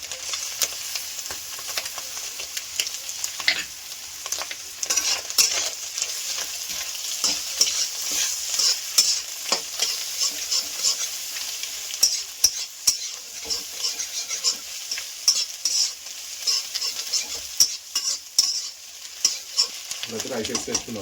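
Rice with greens and ginger fries in a pan, a steady sizzle broken by frequent scraping and clinking stirs of a utensil against metal, with no one speaking.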